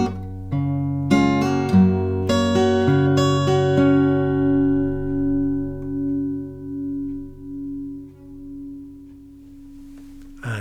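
Fingerpicked acoustic guitar plays the opening phrase of a song, a quick run of plucked notes early on that settles into sustained ringing tones slowly decaying, heard alone and close.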